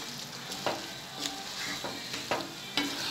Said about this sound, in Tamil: இது வந்து நல்லா கிளறி விட்டுக்கலாம்.